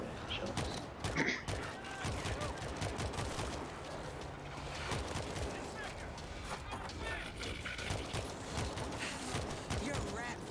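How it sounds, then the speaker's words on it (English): Video game gunfire crackles in rapid, fairly quiet bursts and scattered single shots while people talk over it. "Shots."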